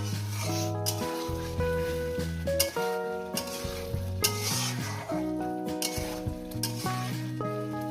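Potato and pointed gourd sautéed in a pan, with a constant sizzle and stirring strokes heard up close under a continuous background of music-like tones.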